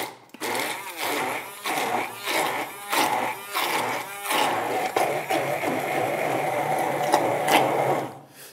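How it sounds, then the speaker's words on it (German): A blender purées chickpeas, peppers, garlic, lemon and olive oil in pulsing bursts, then runs steadily with a high buzzing whir, loud and close. "Jetzt wird püriert."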